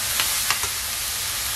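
Zucchini for a Sri Lankan malluma fries in a pan over the flame, a loud, steady hiss and sizzle with a few soft scrapes of a spoon stirring it, close by and without talk.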